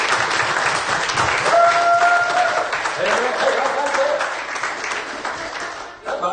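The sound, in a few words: church congregation clapping in praise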